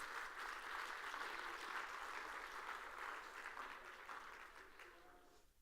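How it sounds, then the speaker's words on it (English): An audience at the SXSW 2023 All Things Food Summit claps in a dense, sustained round of applause that gradually tapers off at the end. "So let's give it a round of applause"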